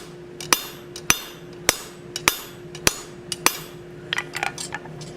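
Ball peen hammer forging hot metal on an anvil for a blacksmith plant hanger, a regular series of sharp ringing strikes about every half second, followed by a quicker cluster of lighter taps near the end.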